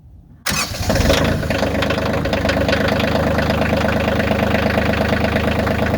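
A Bobcat CT2025 compact tractor diesel engine cranks briefly and fires up loudly, then settles into a steady, rough idle close by.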